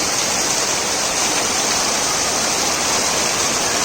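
Heavy monsoon downpour pounding steadily near a farm embankment in Maharashtra, a dense, unbroken hiss that stays loud and even throughout, with no voices.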